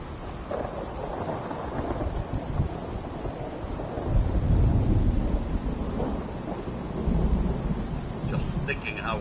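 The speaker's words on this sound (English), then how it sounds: "Just thinking how wonderful it'd be to get out of this infernal rain." Steady heavy rain pours in the post-apocalyptic game Fallout 4 while deep rolling thunder swells and rumbles through the middle, close and loud, ending with a few brief higher clatters.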